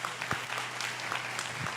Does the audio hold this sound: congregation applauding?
yes